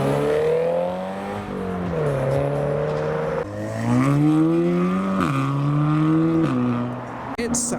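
A modified GT86 pulls away from a car show, its engine revving up and shifting through several climbing pitch sweeps, loud and close, with crowd noise around it.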